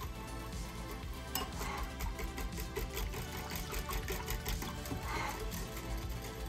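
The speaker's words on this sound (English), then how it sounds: "we're going to quick whisk this up to mix everything together" Rapid rhythmic clinking as a whisk beats sweet and sour sauce made with rice wine vinegar in a bowl, a steady close scraping-and-tapping texture over continuous kitchen background noise, with no talking.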